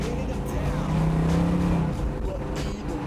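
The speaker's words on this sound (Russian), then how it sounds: "Это пробуксовка." A Chevelle SS launching with wheelspin, its big engine roaring as the tires spin on the street, with a rising whine and rough engine noise filling the clip.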